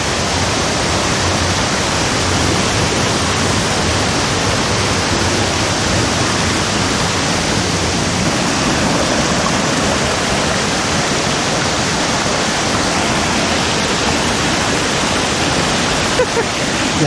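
A river in the Cisarua–Jonggol countryside rushes and splashes in a steady, loud, broadband flow with no breaks, close by and unchanging for the whole stretch.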